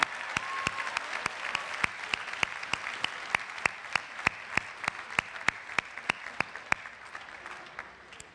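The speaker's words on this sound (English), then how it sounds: "a round of applause, please, for the Student Award recipients for the class of 2016" Audience applause for student award recipients at a 2016 business school convocation, a broad steady wash of many hands with sharp, evenly spaced flash-camera clicks cutting through, fading toward the end.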